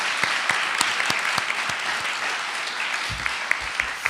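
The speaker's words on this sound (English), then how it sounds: "just a quick round of applause for our panelists" Audience applauding panelists at a guide launch event, steady even clapping from a room of people throughout, with a few sharper individual claps standing out near the end.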